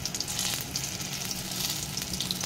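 Pumpkin pieces fry in a small amount of oil, giving a steady close sizzle with soft crackles for a couple of seconds and no voices.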